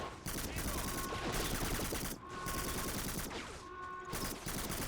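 Video game gunfire from a suppressed weapon forms dense, rapid automatic bursts at low level. Short pauses break up the shooting, which stays rough and crackling throughout, and a voice talks over it.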